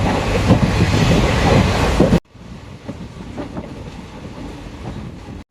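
Steady loud rumble of a moving train heard from inside a passenger coach, with clattering rail noise; after about two seconds it drops abruptly to a quieter, muffled interior hum with faint rhythmic knocks.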